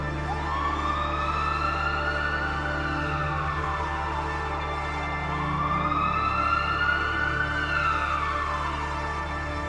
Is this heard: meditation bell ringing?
no